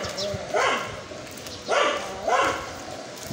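A dog barks in three short bursts spaced about a second apart, moderately close, over a faint background hiss.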